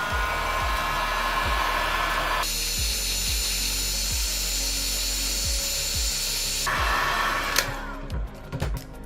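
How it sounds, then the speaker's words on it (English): Heat gun blowing hot air onto a Samsung Galaxy S22 Ultra during a camera replacement repair, a steady loud whooshing roar that shifts pitch partway through, with light clicks and taps from handling in the background. "So we're going to grab our heat gun and just blow heat."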